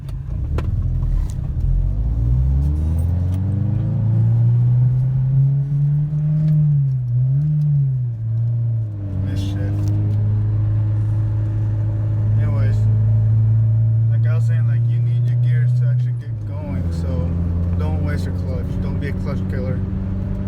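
A manual-transmission car engine drones loudly while driving, rising in pitch through the gears and dropping at shifts, with a person talking over the steady motor.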